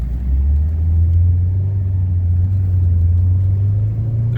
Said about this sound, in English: Taking off from a stop here.